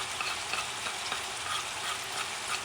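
Fresh garlic is added to Cuban pork chunks frying in a pan, producing a dense, even sizzling hiss that stays steady and close throughout the short stretch.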